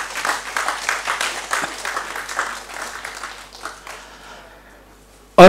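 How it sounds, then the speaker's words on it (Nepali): An audience at a Limbu music and song event breaks into rhythmic, unified clapping that gradually thins and fades out, followed by a sharp loud bump at the very end. "उहाँको नाममा गडगडाहट ताली माग्छौँ र दिन्छौँ"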